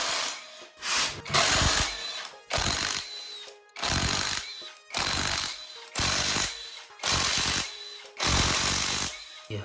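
A power tool, likely an impact gun, works to remove the flywheel from a Toyota 3ZZ engine. It fires in loud, rattling bursts of about a second each, separated by short pauses and repeated many times at close range.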